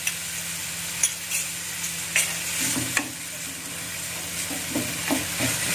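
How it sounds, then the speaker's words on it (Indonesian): Beef and green beans being stir-fried in sauce: a steady close sizzle runs throughout, broken by irregular spatula scrapes and knocks against the pan, with no talking. "Kita aduk aja terus sampai daging dan sausnya ini meresap ya."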